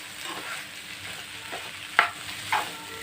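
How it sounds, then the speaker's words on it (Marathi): Finely chopped sponge gourd sizzles in a pan while a spoon stirs it, steady frying hiss broken by a few sharp scraping clinks near the end, close up with no talking. "आता हे गिलके घालायचे आहेत बारीक चिरलेले तेही चांगले हलवायचे"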